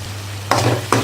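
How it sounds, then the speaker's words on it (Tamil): A steady low hum of oil frying in a pan as turmeric, curry masala and chilli powders are sautéed for vadakari, with two brief louder bursts of sizzling as ingredients are stirred or tossed. "எல்லாம் போட்டு கொஞ்ச நேரம் எண்ணெயிலேயே வதக்கலாம்"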